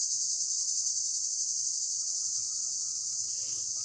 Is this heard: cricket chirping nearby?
yes